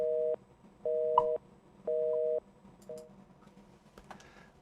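Three steady, loud beeping tones of about half a second each ring out on a telephone line for an out-of-service number, evenly spaced, followed by a short, quieter fourth tone and faint background clicks.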